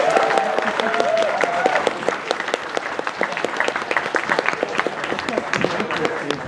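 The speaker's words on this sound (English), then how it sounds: "Big round of applause for the stand-ins." An audience gives a big round of applause for stand-in writers at a writers' panel. The clapping is dense and sustained throughout, with a few voices mixed in.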